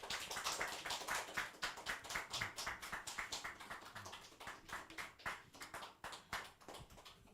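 Church congregation at a mission dedication service claps to welcome a Mongolia missionary to the stage, a close, steady run of individual hand claps with a rhythmic, uneven patter throughout.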